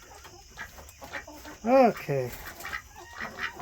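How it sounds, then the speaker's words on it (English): Chickens and guinea fowl calling inside a coop at nightfall, with a loud squawking call in the middle among softer clucks, and a person speaking briefly nearby. "There's 2 guinea birds out there."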